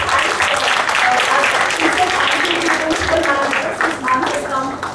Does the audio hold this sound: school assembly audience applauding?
yes